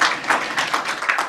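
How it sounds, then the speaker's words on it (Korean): Brief applause from a forum audience welcoming a panelist, a short burst of scattered hand claps at moderate distance. "우리 큰 박수 부탁드리겠습니다"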